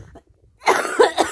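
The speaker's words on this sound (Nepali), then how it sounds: "कति धेरै खोकी लागेको बोल्नै मिल्दैन" A person with Covid coughs: a short, close, harsh cluster of two or three coughs that breaks out of near silence after a faint breath.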